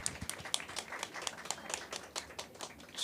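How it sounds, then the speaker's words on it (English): An audience claps for Rupa Dash, CEO of World Woman Foundation, with a sparse patter of individual claps sounding quiet and somewhat distant, with no voices over it. "I just want to give another big round of applause for Rupa Dash"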